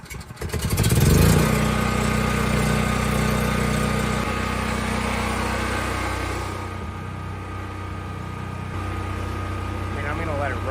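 A Predator portable generator drones steadily inside an enclosure, loud and continuous, with a brief surge near the start before settling into an even idle hum.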